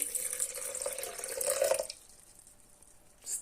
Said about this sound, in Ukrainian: Додаю води